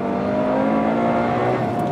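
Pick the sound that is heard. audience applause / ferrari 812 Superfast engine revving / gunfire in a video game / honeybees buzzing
ferrari 812 Superfast engine revving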